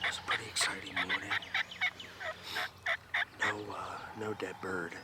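Several wild turkey gobblers gobble in repeated bursts on a spring hunt, the calls rising loud and fairly close over an outdoor backdrop with faint rustling between them.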